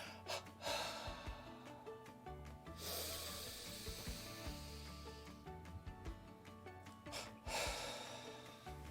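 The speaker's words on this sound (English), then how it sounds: "Then I do a little double exhalation on the out breath" Breaths pushed out in two quick bursts through the nose or mouth during a relaxed breathing exercise, soft and close, repeated a few times with quiet pauses between.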